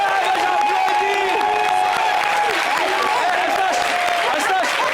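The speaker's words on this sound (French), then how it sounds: "Je me lève et j'applaudis." A studio audience on an entertainment talk show claps and cheers in a dense, steady wash for the full five seconds, with a voice speaking over it.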